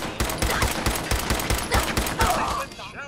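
Rapid gunfire from the player's gun in Fallout 4 pours out in a dense, rhythmic burst of shots lasting about two and a half seconds, then stops abruptly.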